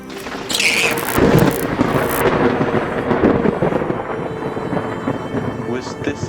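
A loud thunder clap from a lightning strike during a thunderstorm cracks sharply, then rumbles on with rain in the background, fading over several seconds.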